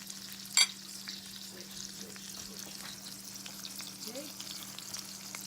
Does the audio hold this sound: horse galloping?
no